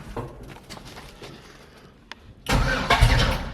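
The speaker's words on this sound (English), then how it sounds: "Oh yeah, you can hear it just cranking it over." A junkyard 6.0 LS V8 with a bad connecting rod cranks over in a short, loud burst near the end, following quieter clatter and a single click.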